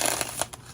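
A small Lo Scarabeo tarot deck is shuffled, producing quick riffling, papery flutters in a couple of short bursts, close and clear.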